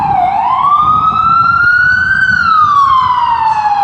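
An ambulance siren rises, holds its wail, and then falls away as the vehicle passes outside. A single clear tone sweeps slowly over the low rumble of traffic.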